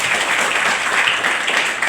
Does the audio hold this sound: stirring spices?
no